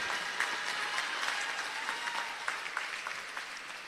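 A crowd at a provincial political rally gives a sustained round of applause, a steady wash of clapping at moderate distance with no voices over it.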